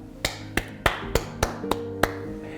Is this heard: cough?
no